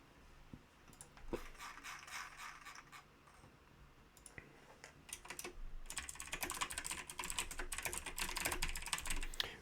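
Computer keyboard typing during a programming session on a GPU video decoder written in Odin: steady rapid clacking of keys that grows denser and louder in the second half, close to the mic, with no talk.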